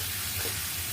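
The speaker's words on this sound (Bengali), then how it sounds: "এবার ভালো করে কষিয়ে নেব।" Steady sizzling hiss of vegetables sautéing with turmeric, chili powder and spices in a hot pan, close and continuous with no talk.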